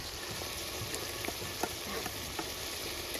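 Ginger garlic paste and green chilli fry in a hot pan, a steady hissing sizzle with small scattered pops and scraping stirs throughout.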